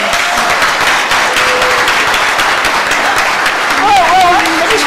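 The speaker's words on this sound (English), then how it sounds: "We have a massive round of applause." Loud, dense applause from a conference audience fills the whole stretch, steady and close, with a brief whistle-like tone near the end.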